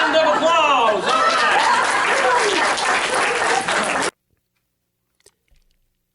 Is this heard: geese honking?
no